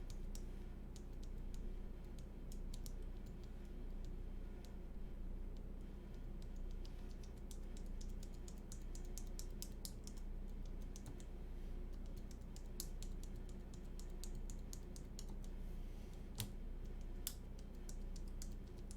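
Steady typing clatters on a custom Poly Salamander TKL keyboard fitted with Holy Panda switches and a PBT plate, giving close, crisp keystrokes in a continuous run with occasional sharper clacks over a low background hum.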